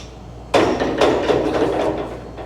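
Sheet metal ductwork is bent to 90 degrees, a sudden loud metallic bang followed by a rumbling, rattling clatter as the panel shifts, close and brief.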